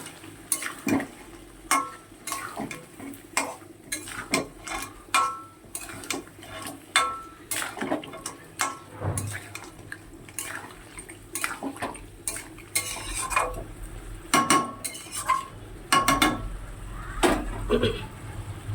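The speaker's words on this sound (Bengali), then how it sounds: "এবার এটা খুব ভালো করে কষাবো একসাথে।" Crabs being stirred and sautéed in a pan, with rhythmic spoon scrapes and clinks against the metal over a low frying sizzle, close and steady, with no talking.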